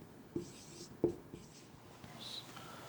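Pen writing on paper, quiet close scratching strokes in short bursts with faint pauses between them.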